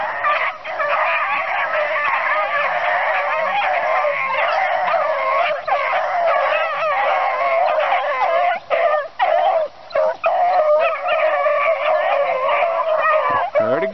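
A pack of beagles bays and yelps continuously while chasing a rabbit across a road, many overlapping howling voices close and loud, with brief gaps near the end.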